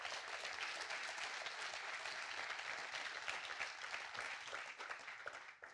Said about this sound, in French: On peut applaudir fort Julien.